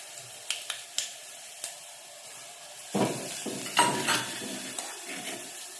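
Garlic, curry leaves, cumin powder and chili powder frying in a pan for plain rasam: light crackling ticks at first, then a denser sizzle with stirring scrapes, close and moderately loud, no talking.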